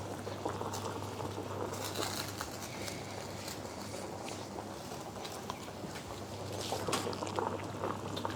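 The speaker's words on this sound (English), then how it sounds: "As you can see, it's now come to the boil." Salted water with a little butter boils hard in a pan on the stove under a butter paper, a steady close bubbling and seething that continues unbroken, with small irregular pops and no voices.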